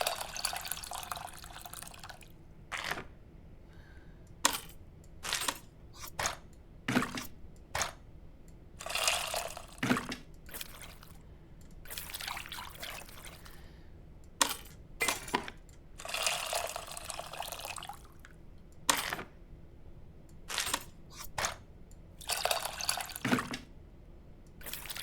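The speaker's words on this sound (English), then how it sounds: "Mix tamarind with the water to extract essence multiple times." Tamarind mixed with water and strained in a kitchen scene from the video game Venba: quiet, intermittent splashes, drips and squelches arrive in short irregular bursts with pauses between them, close and soft, with no talking.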